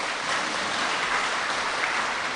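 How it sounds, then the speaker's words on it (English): A crowd at a college foundation day applauds an alumni batch of 1996 to 1999, the clapping forming a continuous even roar that stays level from start to finish. "please give them a round of applause."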